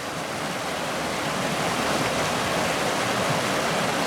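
A shallow river rushes in a constant, loud broadband roar, with no breaks or voices over it.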